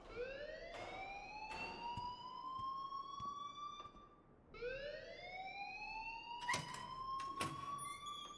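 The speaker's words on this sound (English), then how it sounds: "please turn off that alarm since that's your job" A school alarm in the video game Life is Strange wails in rising siren sweeps that repeat and climb steadily in pitch, fairly faint and continuous, with scattered clicks and thumps over it and no speech.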